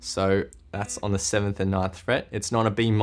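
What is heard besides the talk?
No distinct noise like a dog, phone or traffic.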